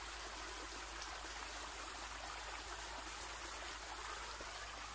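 A small stream flows past a mangosteen garden in Xà Bang, Vietnam, with a quiet, continuous trickling and gurgling that holds steady for several seconds with no speech and a faint low hum beneath.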